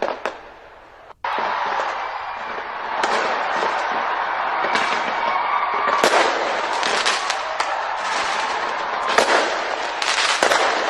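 Fireworks burst at New Year celebrations in New Zealand and Australia, a dense, continuous barrage of crackling and popping explosions that stays loud throughout.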